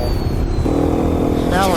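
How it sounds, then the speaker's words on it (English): Engine of a Beta 500 RRS dual sport motorcycle fitted with an FMF exhaust, running steadily with a raised idle on a trail ride; a close, continuous drone that climbs slightly near the end. "This bike is running like a champ, although I need to switch it to the mapping for the FMF exhaust I have on it, since it does have a runaway idle."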